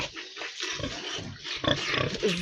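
Pigs on a farm, including sows kept with boars, grunt and squeal in a busy, close, overlapping chorus with sharp squeals breaking through.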